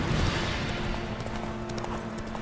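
Roach, Geralt's horse in The Witcher 3, clip-clopping with steady hoofbeats under a dense ambient game mix, moderately loud and close throughout.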